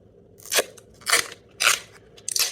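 Duct tape rips off the roll in four sharp, crackling bursts spaced about half a second apart, close up with quiet gaps between pulls.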